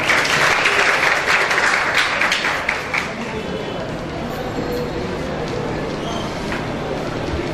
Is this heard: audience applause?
yes